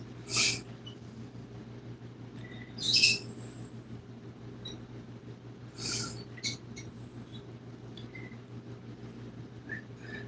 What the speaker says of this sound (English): occasionally you will hear me respond to my birds